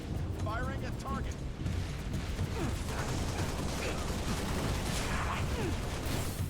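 Gunfire in the Halo: Reach video game, a dense, continuous battle soundscape of shots and blasts running loud throughout, with talk in the mix.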